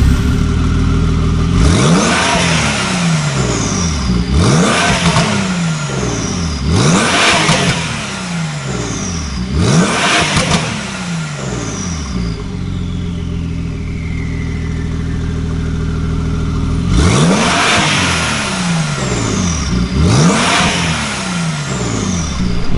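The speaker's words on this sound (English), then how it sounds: "let's listen to how this 992 sounds after a full exhaust system upgrade and also a stage 2 tune" A Porsche 992 Carrera with an IPE full exhaust, OPF delete and stage 2 tune is revved hard at a standstill, six loud sweeping blips climbing and falling back to a burbling idle, with a quieter idle stretch in the middle.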